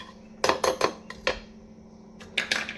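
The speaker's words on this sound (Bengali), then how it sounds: "এবার আমি এর মধ্যে দিয়ে দিচ্ছি একটা ডিম ফাটিয়ে" Cracking an egg into a sugar and oil mixture for coffee cookies: a few sharp, close taps and clicks of shell against a bowl, quiet surroundings, brief clustered knocks then a pause and another tap.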